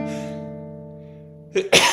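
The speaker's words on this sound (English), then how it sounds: "Don't sneeze in the middle of the song." A single sharp sneeze bursts out near the end, right after a long sustained sung note fades.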